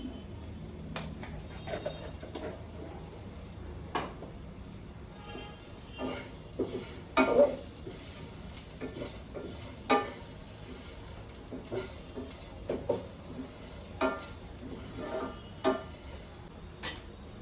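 Onions with a little chili powder fry quietly in a pan, a soft background sizzle broken by frequent scraping stirs and light taps of the spoon, some sharper knocks around the middle.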